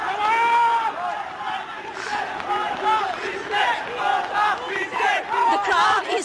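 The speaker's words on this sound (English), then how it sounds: "The crowd is swelling" A large anti-government protest crowd on the streets of Colombo, many voices shouting and chanting in rising and falling waves, loud and close, with cries repeating over a steady roar of the throng.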